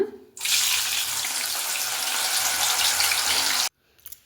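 Spicy field beans (avarekalu) frying in hot oil give a loud, steady sizzle that starts abruptly, holds for about three seconds and then cuts off.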